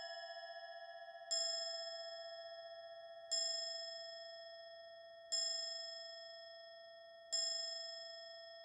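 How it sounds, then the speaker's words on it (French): A small bell chimes in a video game, four clear ringing strikes spaced evenly about two seconds apart, each fading over a steady tonal hum. "quand tu l'enclenches, ça t'enclenche la petite sonnette qui est là"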